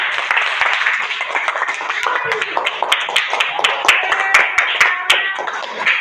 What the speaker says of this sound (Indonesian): tepuk tangan untuk Mawan